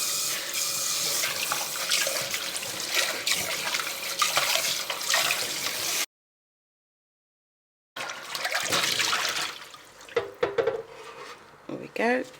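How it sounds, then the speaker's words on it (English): A pot is rinsed under a running kitchen tap, with a steady rush of water and scrubbing and clanking against the metal, then a short silence before more splashing and rubbing resumes. "I'm going to rinse it out."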